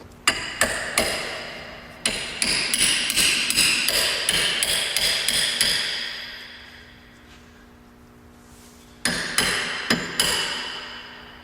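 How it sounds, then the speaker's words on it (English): Hammer tapping a steering component into place on a Toyota 4Runner during a steering repair: a fast run of sharp metallic taps, a pause, then a second short burst, close and loud with no talk. "I'm just going to tap it into place."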